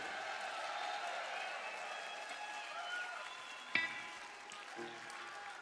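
An audience applauds at a Chicago Theater reunion concert. It is a steady, dense wash of clapping and crowd noise at moderate distance, with one sharp knock near the end.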